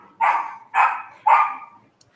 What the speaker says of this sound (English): a crazy dog somewhere